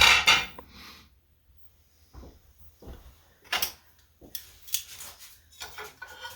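A metal cooking pot and its lid clank down onto a stovetop burner, with several sharp close knocks and scrapes of metal on metal separated by short quiet gaps.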